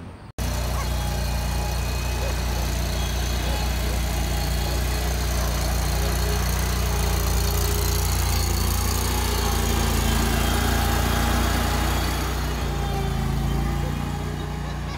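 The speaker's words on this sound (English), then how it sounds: "I'm gonna go ahead and start mowing it" A lawn mower engine runs steadily while mowing, a loud continuous drone with a constant pitch that holds for the full length after it starts abruptly at the beginning.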